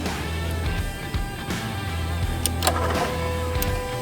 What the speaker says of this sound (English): you can hear the throttle body kicking in